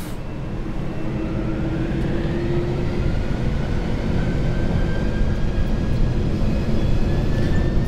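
Boeing 747-400F cockpit during the takeoff roll, a loud, steady rumbling roar of engines and rolling noise with faint rising whines, heard from inside the flight deck.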